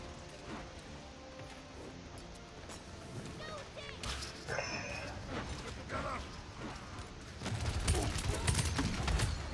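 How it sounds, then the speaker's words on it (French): Gunfire in the video game Paladins: faint, scattered bursts of shots at a distance, rising to a louder flurry near the end, set over busy game ambience and background noise. "Ah, il y a quelqu'un qui tire ici."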